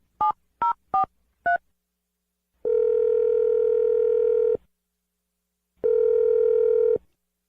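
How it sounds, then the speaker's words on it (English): Four quick touch-tone beeps of a telephone dialing a number, followed by two long ringback tones with a pause between, clean and close with no voices. "I'm dialing the phone number right now."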